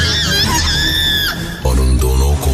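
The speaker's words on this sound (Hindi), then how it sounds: "लेकिन उनकी बात खत्म होने से पहले ही राखी एक बार फिर से चीखी" A woman screams in a horror-story sound effect, a loud, piercing, sustained shriek that breaks briefly and then resumes in a second, lower, strained wail.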